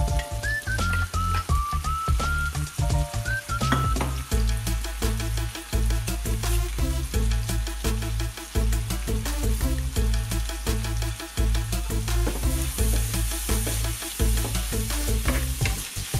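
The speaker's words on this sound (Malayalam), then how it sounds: "ഇനി ഇത് നമുക്ക് നന്നായിട്ട് വഴറ്റിയെടുക്കാം" Garlic, ginger, green chilli and curry leaves fry in hot oil for a Kerala-style pork roast, making a continuous loud sizzle. Persistent music plays over and around the frying.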